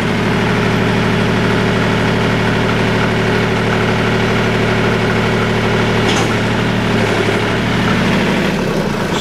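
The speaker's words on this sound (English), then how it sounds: "Give her a bit more throttle." An engine runs loud and close at a steady idle, its low hum thickening slightly as the throttle is opened, with a brief clunk near the end.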